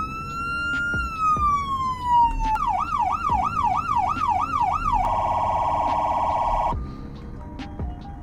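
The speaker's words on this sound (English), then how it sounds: "our sirens." Police car sirens in the Roblox game Greenville, cycling through several loud electronic patterns: a long falling wail, then a fast rising-and-falling yelp, then a rapid warbling tone that cuts off near the end.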